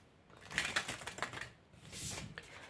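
Oracle cards drawn and shuffled from a deck produce soft, close papery flicks and rapid riffling clicks in quick bursts, quiet and without speech.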